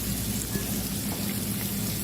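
Vegetables and onions sizzle in a hot pan for shrimp and grits, a steady, even crackling hiss with no pauses and no voices.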